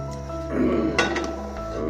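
A metal cooking pan set down on a kitchen stove gives a single clank midway, over a steady low hum.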